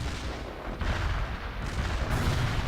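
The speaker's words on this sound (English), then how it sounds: "Loading rocket launchers!" Rocket launcher fire in the World in Conflict strategy game: dense, continuous rumbling booms and blasts layered together, loud and sustained with a heavy low-end roar throughout.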